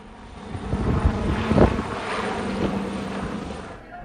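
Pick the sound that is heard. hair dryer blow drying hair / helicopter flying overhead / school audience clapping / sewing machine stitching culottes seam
helicopter flying overhead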